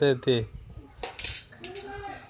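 Children handling toy pots, pans and lids, with a few bright metallic clinks and clatters among brief voices nearby.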